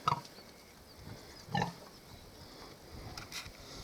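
Hungarian Mangalica pigs wallowing in a flooded, muddy pen give two short, close grunts a moment apart, followed by fainter snuffling and shuffling in the mud.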